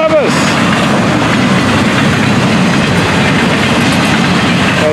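A train passes close by on railway track over freshly packed ballast, a loud continuous rumble with rolling wheel clatter throughout.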